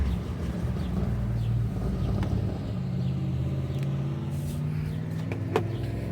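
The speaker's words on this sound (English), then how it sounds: "And if you can hear, my neighbor's out running his car." Low rumbling car engine idling and revving somewhat in the distance, a steady droning hum with slight rises in pitch.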